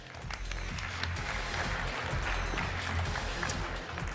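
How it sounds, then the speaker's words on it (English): A startup competition crowd applauds as a former winner is welcomed onstage, a steady wash of clapping that holds at an even level. "Big round of applause."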